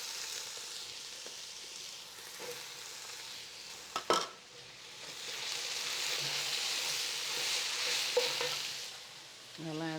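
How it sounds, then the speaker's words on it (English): Cubed eggplant and tomato sauce cooking in a pot, with a steady close sizzle throughout and a sharp utensil clank and stir near the middle. "this you really want to caramelize and let the eggplant cook thoroughly"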